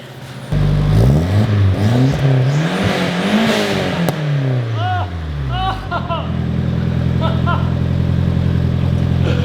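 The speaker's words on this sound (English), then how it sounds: "This is a cold startup of a Nissan 240 SX." A 1993 Nissan 240SX engine cold-starts, cranking and catching, revving up loudly then settling into a rough, steady idle, with brief voices talking over it.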